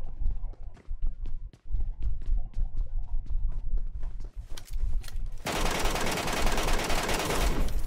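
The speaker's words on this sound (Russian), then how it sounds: "Где-то еще выстрелы слышал." Metro Royale video game gunfire: rapid bursts of sharp automatic shots cracking in quick succession, followed by a dense, sustained roar of continuous firing.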